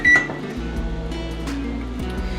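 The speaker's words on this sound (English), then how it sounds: "I'm just going to preheat my oven to 350 degrees" A single short, loud electronic beep from an oven control panel while it is set to preheat to 350 degrees, followed by a steady low kitchen hum.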